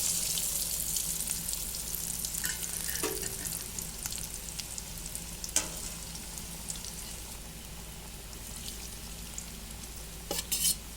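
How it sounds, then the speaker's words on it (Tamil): Steady crackling sizzle of cauliflower frying in hot oil, with occasional stirring clinks and scrapes, fairly close and continuous. "இப்போ காலிஃப்ளவர் நல்லா உரிக்கிச்சு நம்ம எண்ணெயில் போட்டு எடுத்துக்கலாம்"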